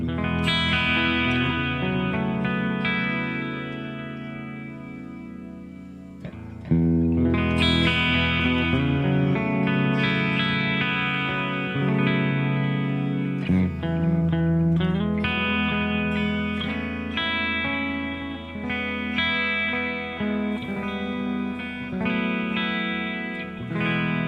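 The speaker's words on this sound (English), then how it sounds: "then they miss it, and they're like, go back to the distortion" Electric guitar chords played through a distortion effect with some chorus and reverb, sustained and loud throughout, with a brief pause and a sharp restart partway through.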